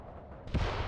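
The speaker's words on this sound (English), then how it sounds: "mortars are yet again contacting us or firing at us" A single mortar round lands in a WWII-style combat game, a short, heavy boom that breaks out of a quieter rumbling background and lingers briefly.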